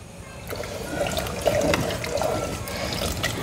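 Water is poured steadily into a cooking pot for rice pulav, making a continuous close splashing gush that swells slightly and stays level throughout, with no speech.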